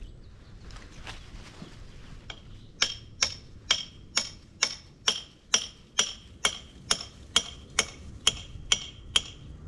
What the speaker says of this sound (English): I just used a hammer and a chisel to